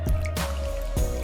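Thawing chitterlings sloshed by hand in a container of water, with wet squishing and dripping splashes in a few distinct pulses over a steady low hum, close up.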